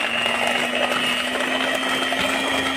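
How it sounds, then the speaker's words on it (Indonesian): Electric mixer beating cake batter for kue putu ayu at low speed, a steady close motor whir with a constant hum and faint whirring texture throughout, no talking. "Kemudian kita mixer dengan kecepatan yang rendah dulu ya teman-teman"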